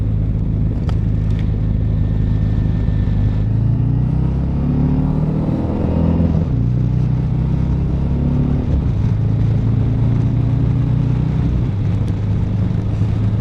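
A large cruiser motorcycle engine drones continuously while riding, with a loud, close low rumble and steady wind noise, its pitch shifting slightly as the bike accelerates and settles.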